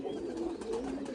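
A fancy bred pigeon coos in a soft, continuous, burbling murmur, close and steady, with no one talking.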